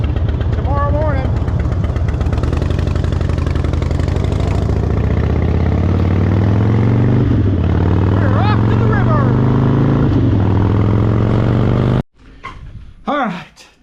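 A Harley Davidson motorcycle engine runs steadily close by, a low throbbing drone that fills the clip until it cuts off near the end, with brief chirping sounds over it.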